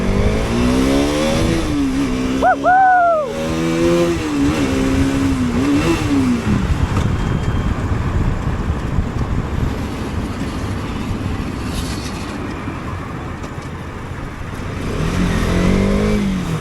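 An RS 200 motorcycle rides through traffic, its engine droning loud and close with a rising, wavering rev around the start, under steady wind and road roar; nearby vehicle noise swells again near the end.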